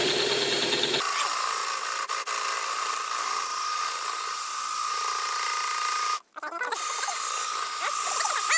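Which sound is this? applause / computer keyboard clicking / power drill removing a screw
power drill removing a screw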